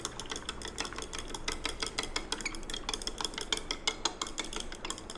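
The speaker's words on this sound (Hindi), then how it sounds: "ये हम इस बीकर में डालेंगे और इसको हिलाएंगे, स्टिर करेंगे, यानी इसके अंदर मिक्स करेंगे" A rod stirs ammonium chloride into water in a glass beaker, giving a rapid, continuous run of tinkling clinks against the glass, close and steady for several seconds.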